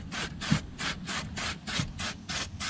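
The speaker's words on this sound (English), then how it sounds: "I wish it sprayed out more like" An applicator sprays thick Fluid Film rust treatment onto a truck frame in regular bursts, each a rough hissing rasp about a quarter second long, repeating steadily and close by with no talk.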